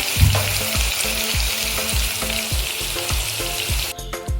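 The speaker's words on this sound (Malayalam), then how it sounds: "കുറച്ച് വെളിച്ചെണ്ണ ഇട്ട് നമുക്ക് സോയ വറുത്ത് കോരിയെടുക്കണം" Soya chunks fry in hot coconut oil in a pan, a loud, close, continuous sizzle with bubbling crackle and repeated clinks of a scoop against the pan.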